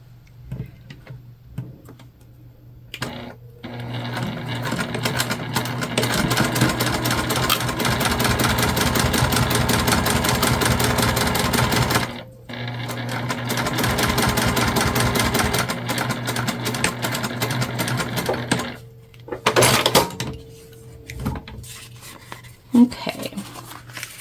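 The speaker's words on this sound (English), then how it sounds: "We're not going to sew through that at all." A sewing machine stitches a fabric candy bag in long, fast, rhythmic runs of ticking needle strokes with a motor hum, stopping and restarting several times with short pauses.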